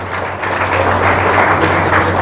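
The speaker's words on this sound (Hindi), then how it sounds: "तालियां बजाओ" Audience applause at a talk on healthy living and fruit diets, a dense, steady wash of clapping from a crowd held for about two seconds with a low steady hum underneath.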